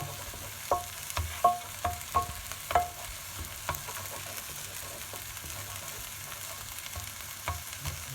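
Cantonese fried rice, with eggs just added, fries in a pan as a utensil stirs it, making a soft steady sizzle with a run of light scraping taps early on that then settles into quieter frying.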